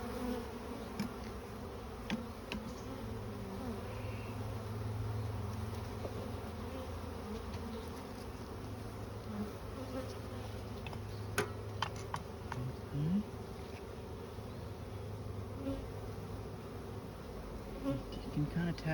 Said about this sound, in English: You can kind of tap the bees a little bit to move them.